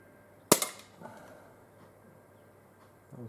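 A Buckmark Magnum air pistol fires a single sharp, close crack at a 12.5-metre range, followed by a faint thud of the pellet and a softer click later, with no talk.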